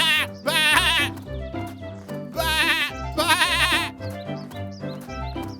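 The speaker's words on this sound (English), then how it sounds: "he mingled with the dancing lambs by baaing." Lambs bleat repeatedly over a steady musical backing, several loud overlapping baas in quick succession, close and clear.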